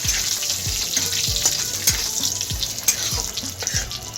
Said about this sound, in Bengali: হাই ফ্লেমে প্রায় 30 সেকেন্ডের মতন ফোড়নটা হতে সময় লাগবে।